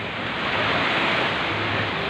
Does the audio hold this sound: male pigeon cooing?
no